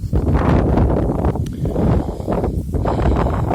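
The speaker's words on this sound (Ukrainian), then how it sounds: "вибачаюсь за якість звуку, бо вітер такий конкретний, навіть дуже" Heavy wind buffets the microphone beside a wheat field, producing a loud, continuous rumbling roar with gusty swells and no clear voices.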